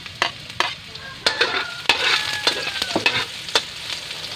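Garlic sizzles in a hot pan while being stir-fried, with soft frying hiss under a series of sharp scrapes and clacks of the utensil against the pan, close and alone.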